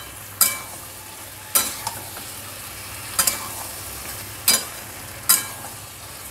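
Pointed gourd and potato with spices being stir-fried in a pan, heard as five or six sharp, close utensil scrapes spaced about a second apart over a quiet, faint background sizzle, with no talking.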